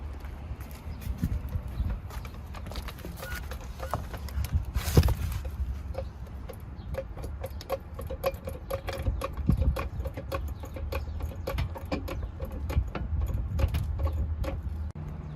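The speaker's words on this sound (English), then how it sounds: "I'm just going to jack it up" A car jack is pumped to raise a car at its rear tow hook, giving repeated metallic clicks and ratchety taps over a low background rumble, with no talking.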